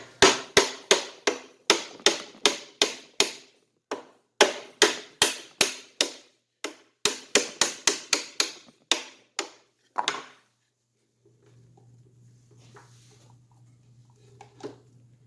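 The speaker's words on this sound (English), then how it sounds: "Then we're going to loosen this lock nut." A lock nut on a Graco 390PC airless paint sprayer gets a fast series of sharp metallic hammer taps in quick bursts, close and loud. Then the taps stop and a low steady hum is left.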